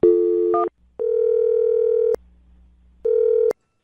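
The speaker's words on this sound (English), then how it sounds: "Dial her phone number right now" A telephone call is placed, giving a few short electronic tones followed by steady ringback beeps, each about a second long, separated by a quiet gap and a faint line hiss.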